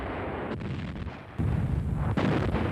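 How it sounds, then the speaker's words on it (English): British artillery fire pounds German defenses at Halfaya Pass in June 1941, a heavy low rumble of distant shelling that thickens midway into a denser, louder barrage with no voices. "The British unleashed artillery fire onto the German defenses."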